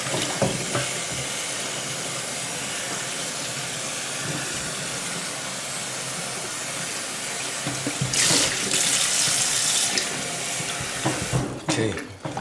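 Steady rush of running tap water over a turkey being rinsed in a sink after a lemon and vinegar wash, continuous and close, with a brief louder gush partway through and clattering handling near the end.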